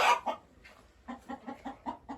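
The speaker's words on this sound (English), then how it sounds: "And I have some broody hens in here." Broody hens, including a Sumatra and an Easter Egger, clucking close by, a short burst followed by a run of soft, evenly spaced clucks.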